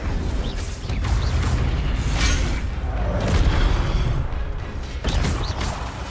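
A fire spell cast during a Hogwarts Legacy duel: dense, rumbling magical bursts and booming whooshes, loud and continuous with sharper flares partway through and near the end.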